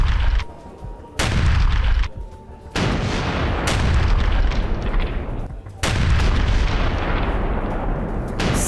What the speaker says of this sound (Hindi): और अब टारगेट पर था हिजबुल्लाह का वेपन डिपो,